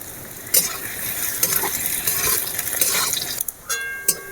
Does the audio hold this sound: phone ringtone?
no